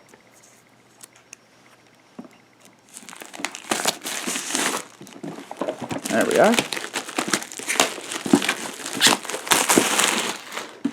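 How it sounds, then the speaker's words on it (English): Scissors cut and crinkle open the plastic wrap on a Resident Evil 2 survival horror board game expansion, with dense crackling and rustling building after a quiet start, close up and steady, while someone talks intermittently. "why don't we see if we can go ahead and open the package with one hand"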